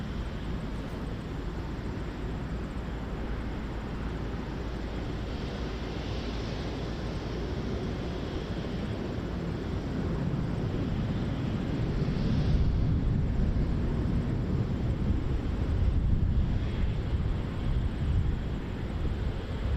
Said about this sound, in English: Thought I heard thunder, but it's just airplane engines.